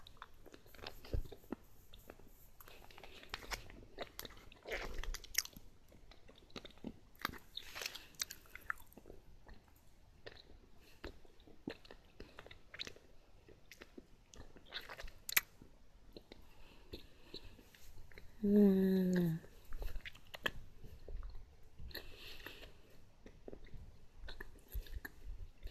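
Quiet, close chewing of premium caramel candy, with soft sticky clicks and smacks repeating irregularly and a brief murmur partway through.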